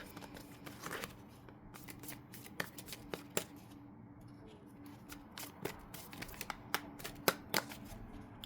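Tarot cards are shuffled and drawn by hand, giving quiet papery riffles and sharp snapping flicks at irregular intervals over a faint steady room hum. No one speaks.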